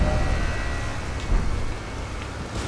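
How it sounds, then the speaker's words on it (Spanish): Steady rain falling in the Elden Ring: Shadow of the Erdtree video game, a continuous broadband wash with a low rumble underneath and no voices. "Y llueve."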